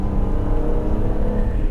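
A BMW Z3 M Coupé's engine drones steadily under load while driving, a dense low rumble with a continuous whir, close and even with no talking.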